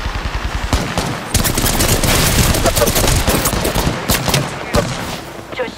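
Rapid, dense gunfire from the battle royale video game Apex Legends, loud and close, with overlapping bursts of automatic shots and sharp cracks continuing almost without pause throughout.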